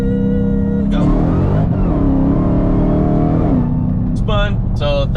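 A car with street tires accelerates hard from a 60 roll in third gear, engine climbing in a loud, steady rising note as the tires spin, with brief voices near the end.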